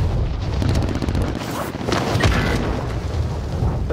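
Airstrike blasts in a video game, a loud continuous rumble of booming explosions near the player, rolling and overlapping for several seconds without letup.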